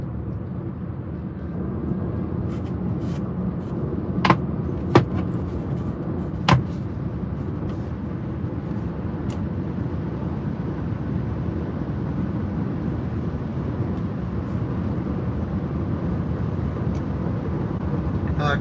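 Steady low road rumble and tire noise from a Tesla Model Y Long Range on 20-inch wheels cruising a highway on Autopilot, a continuous even drone with a few brief clicks and no talk.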